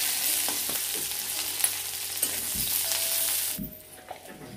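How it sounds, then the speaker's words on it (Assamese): Onions fry in a pan in a steady, close hiss and sizzle, broken by a few scraping stirs, until the sizzle drops off sharply near the end. "পিয়াজখিনি ভাজি ললু ভাজি আছো"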